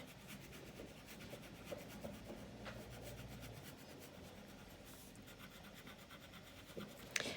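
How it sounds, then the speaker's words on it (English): A crayon is lightly coloured across paper while drawing a Christmas cat, giving soft, quiet, continuous scratchy rubbing strokes heard up close, with no talk. "I'm coloring lightly. I'm not pressing down really hard."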